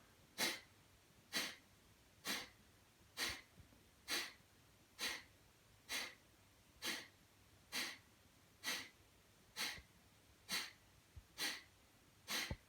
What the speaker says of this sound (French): Inspire et je pars, expire violente et forte avec les abdominaux.